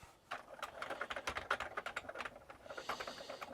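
Typing on the spongy keyboard of an Atari 65XE home computer, a steady run of close, soft clattering keystrokes at an irregular rhythm, with no voices.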